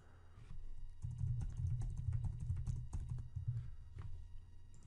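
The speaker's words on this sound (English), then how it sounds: "let's just say you typed out a bunch of stuff." A computer keyboard is typed on in a quick, steady run of close, crisp key clicks lasting several seconds, with no voice over it.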